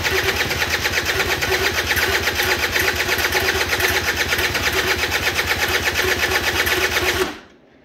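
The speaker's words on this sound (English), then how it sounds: "Let's see if she fires up with this new battery right out of the box here." A Suzuki LT80 quad's small engine cranks and churns with a fresh battery fitted, producing a loud, close, rapid steady pulsing that runs continuously for several seconds and then abruptly cuts off.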